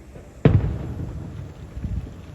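Fireworks bursting outdoors at night beside a ditch: one sharp boom rings out and fades into a low rumbling echo, with a fainter second thump following a moment later.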